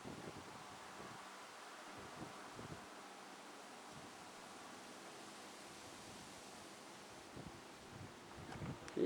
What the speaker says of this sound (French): il y a le vent qui se ramène, là, je l'entends souffler dans les berges là-bas au fond